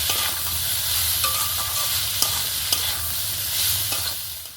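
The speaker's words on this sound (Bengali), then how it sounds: "এবারে সব কিছু একসঙ্গে নেড়ে চেড়ে খুব ভালো করে একটু কষিয়ে নিতে হবে।" Vegetable filling with salt and turmeric for veg rolls sizzles steadily in a pan. Occasional scraping stirring strokes cut through the frying, and no one speaks.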